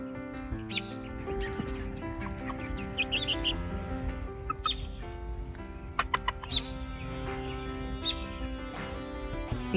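Hens and young chickens cluck and chirp softly in a backyard flock, a continuous close murmur of clucks with scattered sharper calls and a steady background hum.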